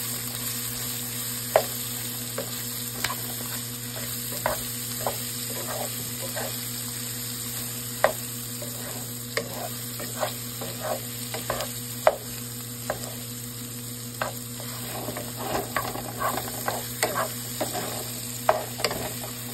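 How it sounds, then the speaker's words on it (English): Okra seasoned with salt and pepper sizzles steadily in a pan, with scattered sharp clicks and scrapes of a utensil stirring and turning the pieces throughout, at a moderate close distance. "I'm just going to add salt and pepper to it and get it cooking"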